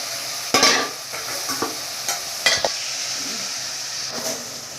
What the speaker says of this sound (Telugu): ఇప్పుడు ఏదైతే కలుపుకున్నామో ఇదంతా నీట్గా ఫ్రై చేసేసుకోవాలి లోపలలో